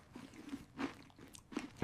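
Food being chewed at a family table, with soft crunchy, wet bites in an irregular rhythm, quiet and close, ending in a sharper louder noise.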